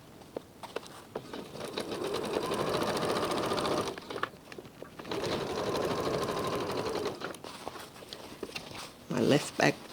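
A sewing machine stitches along the side seam of a trouser waistband in two long steady runs of motor whir, with short pauses and some handling noise between them.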